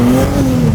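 A 2025 Nissan Z NISMO sports car engine revving on a city street, a brief, loud, close mid-pitched growl rising as it accelerates.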